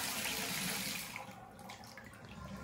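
Water running from a three-handle tub shower valve with the diverter engaged, a steady hissing splash that eases slightly partway through, with no voices.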